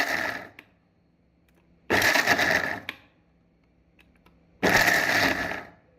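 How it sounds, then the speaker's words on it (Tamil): Mixer grinder pulsing peanuts with palm jaggery in short loud bursts, two long whirring runs with quiet pauses between, no voices. "மிக்சி ஜாரில் நாம் இப்படி விட்டு விட்டு அரைத்து கொள்ள வேண்டும்"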